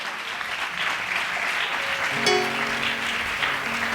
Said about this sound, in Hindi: ताली बजा के प्रभु की महिमा करें।